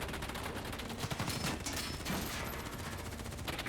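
Sustained gunfire in a Call of Duty Black Ops campaign cutscene: dense overlapping bursts of automatic weapons fire at steady loud level throughout, with sharp individual shot transients standing out.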